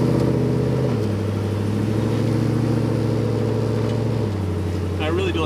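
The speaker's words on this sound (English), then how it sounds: "It seems to idle pretty nice." A 1957 Chevrolet Bel Air restomod idles smoothly and steadily with a deep, even rumble close by, its pitch dropping slightly once early on, while people talk over it.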